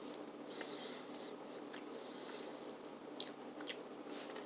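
Someone chews a Field Roast plant-based Mexican-style chipotle sausage: soft, moist, close-up bites and squishy chewing, quiet and alone with no talk.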